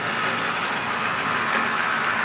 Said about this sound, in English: The train's not actually moving that fast.